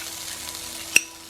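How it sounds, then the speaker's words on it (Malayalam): Food frying in a pan and being stirred, a steady close sizzle with one sharp utensil tap near the end, brief and without speech. "ഒരു മിനിറ്റ് ഒന്ന് ഇളക്കിക്കോട്ടെ."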